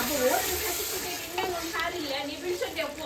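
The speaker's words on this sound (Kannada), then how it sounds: "ಮ್ಯಾರಿನೇಷನ್ ಮಾಡಿರುವಂತಹ ಫ್ರಾನ್ಸ್ ಇದೆಯಲ್ವ ಅದನ್ನು ಹಾಕಿ ಸ್ವಲ್ಪ ಚೆನ್ನಾಗಿ ಫ್ರೈ" Marinated prawns fry in a pan with garlic, chillies, coriander and mint, making a steady close sizzle with intermittent stirring clatter and a voice faintly underneath.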